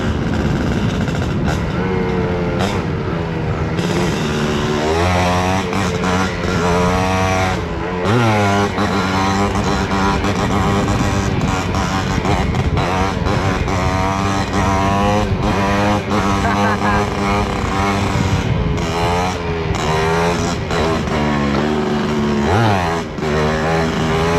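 A Suzuki motorcycle revs hard during a wheelie on a trail ride, its loud engine rising and falling in repeated throttle bursts that stay close and dominant the whole time.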